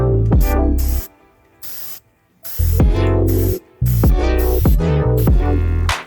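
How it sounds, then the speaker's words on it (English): Several short bursts of hissing aerosol spray paint, a test spray, each lasting around half a second to a second, separated by brief pauses, close and fairly loud. "Paint goes in, and a little test spray to see what I"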